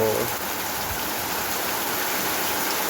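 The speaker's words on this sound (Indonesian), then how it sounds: "Iki hujan." Steady rain falls outdoors as a constant hiss with no breaks, faint and even throughout, with a brief low thump near the start.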